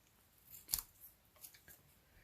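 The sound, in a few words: scissors cutting paper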